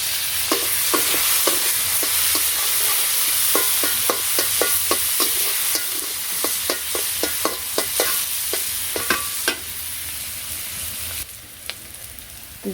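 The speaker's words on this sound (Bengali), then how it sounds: "পেঁয়াজ ভাজা হয়ে গেছে" Onions fry with cumin in a pan for a village-style chicken curry. A spatula scrapes and knocks in a quick, repeated rhythm over a constant close sizzle, then slows and fades near the end.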